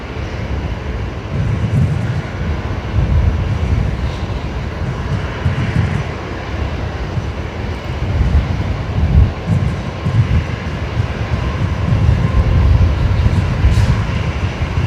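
A heavy jet departs Brisbane Airport with a loud, sustained low roar of engines that swells and rumbles, heard alone and without talk.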